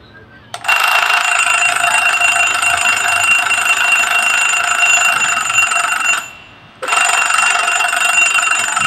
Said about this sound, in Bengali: অ্যালার্মটা চেক করব।